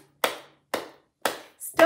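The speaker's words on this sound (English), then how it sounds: "Clap our hands." Three evenly spaced sharp hand claps ring out close and crisp, with a short pause after each, then a brief bright tone and a fourth louder clap at the end.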